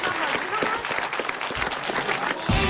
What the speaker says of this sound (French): Allez, on vous applaudit et on vous embrasse, Edith et Jérôme.